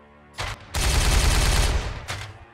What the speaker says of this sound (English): Let's carry on shooting. Firing on target.